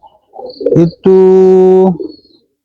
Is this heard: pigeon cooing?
yes